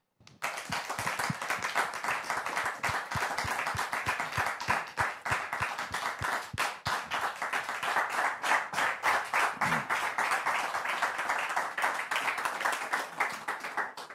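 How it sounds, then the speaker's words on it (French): A public audience applauds to welcome Sister Mélissa onstage, a dense, steady wash of many hands clapping that carries on without a break, loud and close throughout. "Merci pour vos applaudissements"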